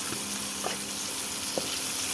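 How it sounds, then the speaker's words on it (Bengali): Chopped onion, cumin seeds and cardamom pods sizzle in hot oil with a steady, even hiss, and a few faint spatula taps sound over it. "এবার আমি কুচিয়ে রাখা পেঁয়াজ দিয়ে দিচ্ছি, আর সাদা জিরে দিয়েছি ফোড়নে"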